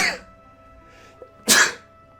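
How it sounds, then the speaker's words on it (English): A single sharp sneeze bursts out near the end, preceded by a short breathy inhale and a faint earlier sound, heard close against a quiet game-music background. "Ooh, I need to sneeze."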